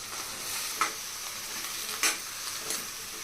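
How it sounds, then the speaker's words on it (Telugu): Brinjal pieces frying with onions in a pan give a steady hiss, broken by a few sharp stirring scrapes and clatters. "ఆనియన్స్ బాగా వేగిన తర్వాత కట్ చేసి పెట్టుకున్న వంకాయ ముక్కలు అయితే అందులో వేసుకుని వేయించుకోవాలి."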